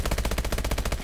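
Rapid automatic gunfire in Call of Duty: Advanced Warfare, a loud, close, steady burst of about a dozen evenly spaced shots filling the full second with no talk.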